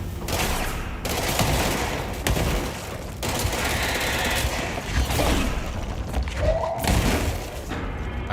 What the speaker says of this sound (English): I almost drew that explosion into myself.